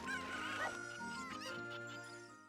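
Cuccos clucking in The Legend of Zelda: Ocarina of Time, game chicken calls repeating steadily over looping background music for a couple of seconds.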